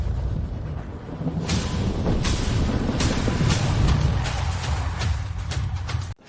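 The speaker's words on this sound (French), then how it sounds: "Ce n'est pas une tempête. C'est un tremblement de glace." An ice quake rendered as a film sound effect: a dense, continuous low rumble with grinding, cracking texture and sharp crackles surging through it, loud and sustained before cutting off abruptly.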